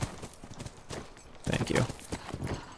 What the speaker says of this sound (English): Giddy up, girl. This horse's name is Mystery.